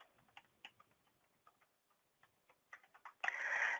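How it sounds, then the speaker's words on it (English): Someone types a comment on a computer keyboard, scattered light key clicks at an uneven pace, close by and fairly quiet, ending in a brief burst of louder noise. "or you can type in a comment"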